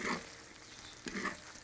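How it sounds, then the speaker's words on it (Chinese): Sea bass pan-frying with onion and seasonings, a brief soft sizzle broken by two short bursts of louder spatter, faint and close. "再给它弄到里面煎一下"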